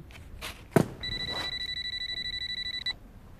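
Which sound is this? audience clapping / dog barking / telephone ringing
telephone ringing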